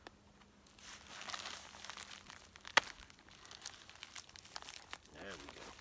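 A heavily taped package is torn open nearby with soft crinkling and rustling, a sharp rip partway through and more crinkling afterward, with a person speaking quietly at times.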